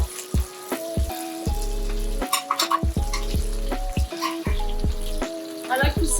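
Spring onion and shallots fry in melted butter in a pan, a steady sizzle broken by repeated stirring and scraping knocks, close and fairly loud with no talking.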